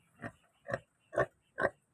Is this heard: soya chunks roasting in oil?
no